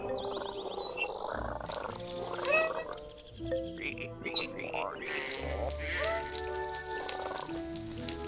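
Toads in the Viva Piñata video game croak in a busy chorus of repeated warbling calls with watery plops, fairly close and steady, while game music plays faintly beneath.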